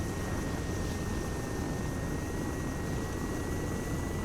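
An OH-6 helicopter flown in the Arma video game drones steadily with a constant rotor and engine hum, even and unbroken throughout, with no talk.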